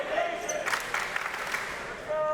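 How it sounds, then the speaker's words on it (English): High-school student section from Cedar Crest cheering steadily through a boys volleyball league championship, a diffuse indoor crowd roar with scattered shouts and a few whistles, with commentators talking over it. "Students from Cedar Crest right behind us, been pretty much cheering all game."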